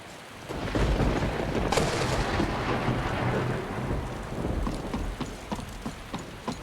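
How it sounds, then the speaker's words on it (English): Steady heavy rain from a Skyrim SE weather mod hisses through a thunderstorm, with a rolling rumble of thunder early on and scattered sharp patters and drips continuing over the wash. "What kind of weather is this? A lot of rain."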